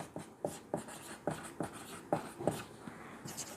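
Chalk or pen writing out a math equation, quick scratchy strokes and taps in short irregular bursts, close and fairly quiet with no talk.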